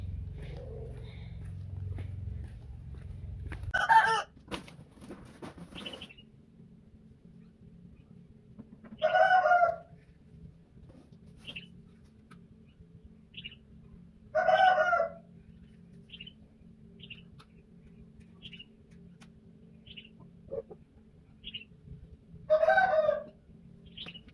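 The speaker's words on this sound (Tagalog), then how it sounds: "Mga manok" A rooster crows four times at spaced intervals, with soft clucking and chirps between, over a steady low hum; a deeper rumble fades in the opening seconds.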